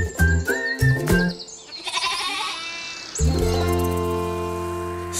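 A goat on a farm bleats several times in quick succession, loud and close, with wavering, nasal cries separated by short pauses before one long drawn-out bleat.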